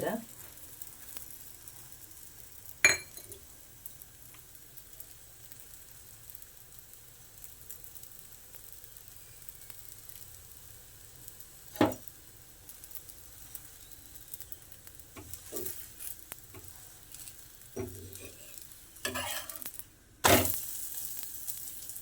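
Holige, a chana dal stuffed flatbread, frying on a pan with ghee: a low steady sizzle throughout, broken by a few sharp clatters and knocks of turning, with brief faint voices.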